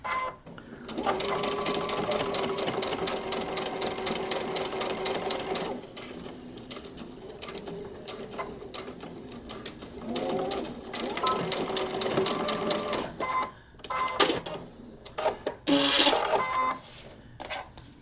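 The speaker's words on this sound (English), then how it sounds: "Stitch on the block a couple stitches." A sewing machine stitches a paper pieced quilt block in rapid mechanical bursts, running steadily for several seconds, pausing, then starting again in shorter runs with small clicks and handling noises between them.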